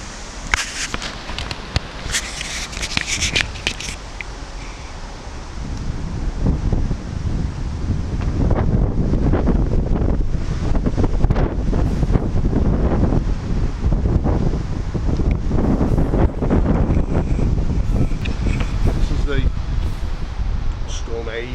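Strong gusty wind buffets the microphone in a constant roar, building in force after a few seconds.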